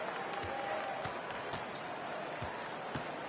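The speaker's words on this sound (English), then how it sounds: "listen to this Chicago crowd erupting" A video game arena crowd in a Chicago basketball game in NBA 2K23 roars and applauds continuously after a Michael Jordan dunk, with a few faint ball bounces or thumps through the crowd noise.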